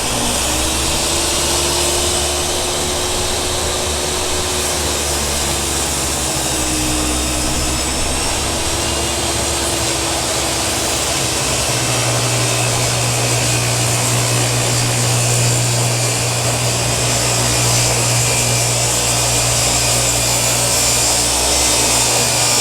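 Hercules table saw ripping a thick wooden board with the blade lowered, a steady loud motor whine and grinding cut running continuously, the tone dropping and deepening partway through as the blade bites harder.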